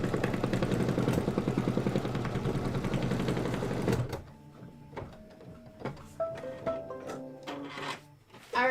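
A sewing machine runs satin stitching in a fast, steady mechanical whir for about four seconds. It then stops, leaving scattered light clicks and handling noises.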